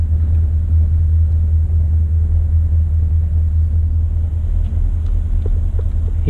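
A vehicle engine on an off-road trail at Ouray, a loud, constant low rumble that holds steady throughout without clear revs.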